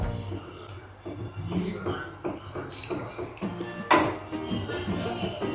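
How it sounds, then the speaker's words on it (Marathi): A large spoon stirring milk powder into rice flour batter, giving repeated soft scrapes and clinks against the bowl, with one sharper knock, under intermittent talking. "गुठळ्या नाही राहिले पाहिजे, छान मिक्स करून घ्यायचं आहे"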